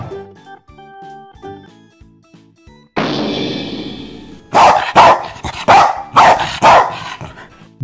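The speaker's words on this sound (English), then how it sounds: "Dog." A dog barks loudly and close in a quick series of about six sharp barks, coming after a stretch of light melodic tones and a brief burst of noise.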